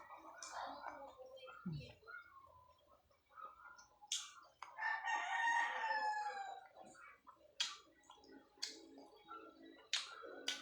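A rooster crows loudly nearby beside a backyard chicken coop amid scattered clucks and bird calls, with brief human voices mixed in.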